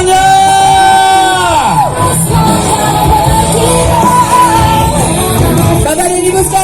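A large crowd cheers, yells and whoops loudly and continuously at a decorated-vehicle carnival parade at Bundaran HI roundabout in Jakarta, celebrating Indonesia's 81st Independence Day, with children's shouts mixed into the dense, close roar.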